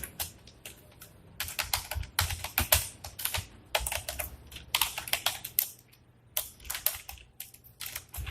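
Someone types code on a computer keyboard during a programming lesson, a steady stream of crisp, close key clicks in rapid bursts separated by brief pauses, with no voice over it.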